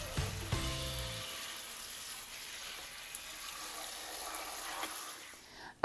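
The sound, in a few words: rinsing cucumbers under cold running water in a colander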